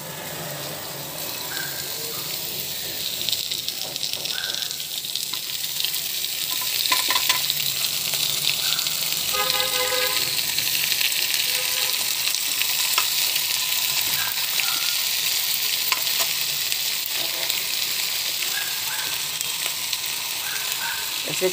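Tomatoes frying in a pan with garlic and oil for a chilli coriander chutney, giving a loud continuous sizzle and hiss with scattered scraping stirs and clinks throughout, no voices.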